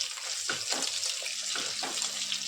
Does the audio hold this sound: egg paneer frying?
yes